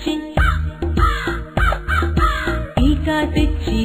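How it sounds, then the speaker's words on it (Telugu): Crow caws ring out repeatedly in a steady series of loud, close calls, several harsh bursts in under four seconds, layered over a musical backing. "కాకి కాకి కలువుల కాకి"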